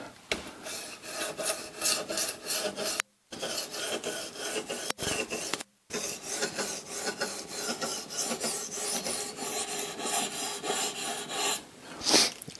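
A knife is sharpened on CBN stones mounted on an Ermak 10 guided sharpener, giving a steady, rhythmic rasping scrape of strokes back and forth, close and clear, with two brief pauses and no talking.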